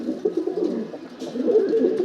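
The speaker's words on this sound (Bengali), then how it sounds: "এগুলো সিলভার কবুতর জাবরা সিলভার কবুতর" Silver pigeons in a loft give soft, low repeated cooing calls, close and fairly loud, overlapping in a steady murmur with no voices.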